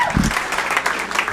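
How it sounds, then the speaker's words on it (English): A crowd at a live comedy club claps briefly, brisk applause mixed with some voices and murmuring. "Give yourselves a big round of applause for coming out."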